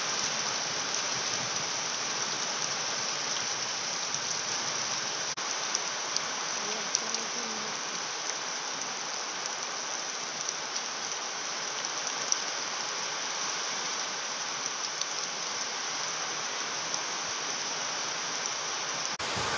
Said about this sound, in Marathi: पुष्कळ असा पाऊस चालू आहे पा.